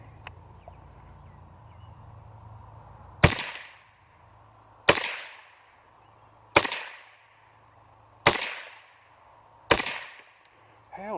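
Five sharp shots from a Savage 64-F .22 rifle firing Echo Speed rounds, spaced about a second and a half apart, each with a quick decaying tail, loud and alone against a quiet background.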